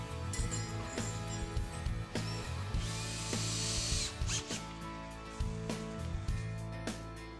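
Power drill driving screws through brackets into a window frame during window installation, several short whirring bursts with pauses between them against a steady background hum.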